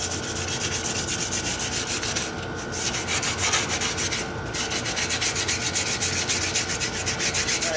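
Steady rhythmic sanding on a wooden archery bow, a Ben Pearson Mustang Model 7170, a continuous raspy scrubbing with two brief pauses, close and loud.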